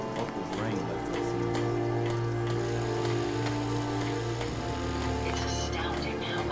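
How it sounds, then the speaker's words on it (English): Continuous rainfall in Fallout 4, a dense, even hiss of drops on surfaces held at a steady level, with a low droning tone running beneath it. "Oh my, it's raining again."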